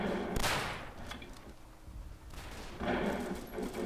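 Sniper and rifle fire in the World War I shooter game Verdun, with two loud bursts of gunshots separated by a quieter stretch of distant battle noise.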